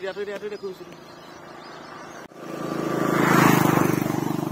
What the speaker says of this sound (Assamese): বহুত স্পীডত গৈছে গাড়ী